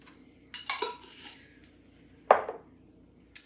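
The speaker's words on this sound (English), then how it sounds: "I'm just going to go ahead and mix that up in our little bowl" A utensil clinks and scrapes against a small bowl while mixing a dry seasoning blend of salt and spices, a few short close clatters separated by quiet.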